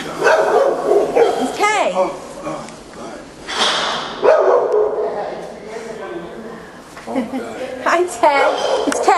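Small dog yips and barks in short bursts at an animal shelter event in New York, heard under excited, close talking from several people greeting it.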